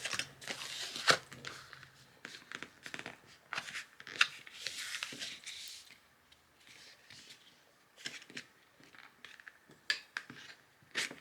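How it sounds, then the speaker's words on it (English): A bone folder presses and creases the paper cover of a vintage thrift-store book, making faint, close, irregular swipes, scrapes and paper crinkles in a quiet room. "I'm going to take my bone folder and finish the final process here."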